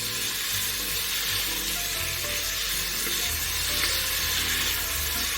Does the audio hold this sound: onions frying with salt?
yes